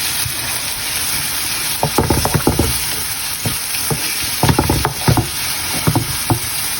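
Bottle gourd leaves (lau shak) frying and being stirred in a pan, a loud steady sizzle with bursts of scraping stir strokes in clusters, no voices.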